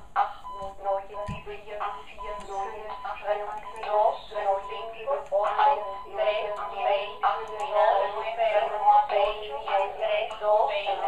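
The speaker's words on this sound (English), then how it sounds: "a nice concert of the choir of Morse speak generators" East German Morse speech generators reading out numbers, several synthetic tonal voices overlapping in a steady, chanting choir-like sequence of spoken digits, loud and continuous throughout.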